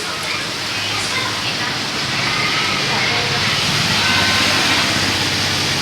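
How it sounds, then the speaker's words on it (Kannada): Heavy rain roars steadily in a town street in Madhugiri as a dense, broadband wash, with rushing floodwater blended in, loud and continuous throughout. "ಸಿಕ್ಕಾಪಟ್ಟೆ ಮಳೆ ಬರ್ತೈತೆ ಅಂತೇಳಿ. ನೋಡ್ರಿ ಹೆಂಗೆ ನೀರು ಹರಿತೈತೆ"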